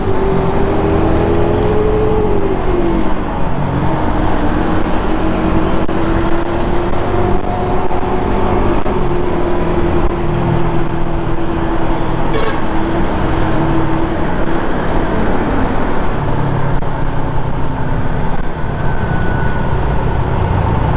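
Rusi/Suzuki Raider 150 carbureted motorcycle ridden on the road with no brake light, a loud continuous engine drone with shifting pitch under rushing wind, steady throughout.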